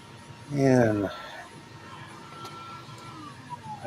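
A hobby laser engraver runs indoors with a faint, steady mechanical whir and occasional soft tones, briefly masked by a person's voice near the start.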